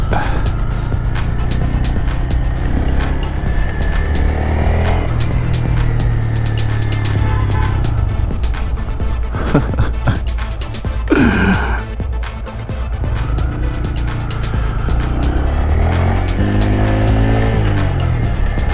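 Motorcycle engine revving and accelerating on a test ride of a bike from a dealership, with a steady loud drone that rises and falls through gear shifts, plus a brief wind or tire burst midway.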